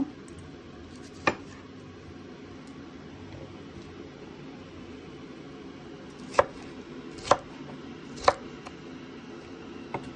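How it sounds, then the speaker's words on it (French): Knife chopping bell peppers on a cutting board for a sausage rougail: a few sharp, isolated thuds spaced seconds apart over a steady low background hum, with no talk. "je vais commencer à couper les poivrons"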